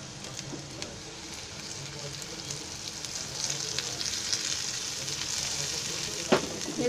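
Stuffed okra (bhindi) fries in hot oil in a pan, giving a soft, steady crackling sizzle at moderate distance, with a few faint utensil taps near the end.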